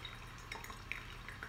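Pour-over coffee dripping through a filter: faint, scattered small drips and trickles over a soft background hiss, quiet and close with no talking.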